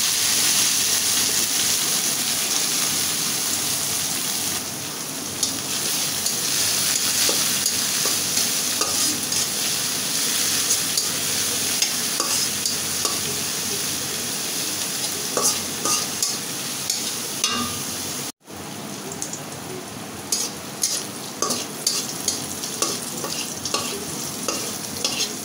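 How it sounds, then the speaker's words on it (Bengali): A handful of coriander leaves fry in hot oil in a pan for a shrimp bharta. A steady, close sizzle runs throughout with frequent scraping stirs, briefly cut off once partway through before it resumes. "এবার আমি ধনিয়ার পাতা কয়টা ভেজে নেব।"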